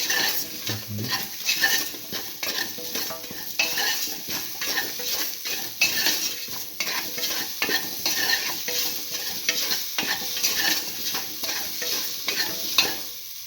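A spoon stirs a rice and potato mixture in a pot, scraping and clinking steadily against the metal with a light sizzle underneath, close up and continuous, with no voices.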